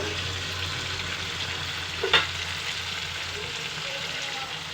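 Fish fry in a pan for a tamarind fish curry, a steady close sizzle with a brief stirring scrape partway through.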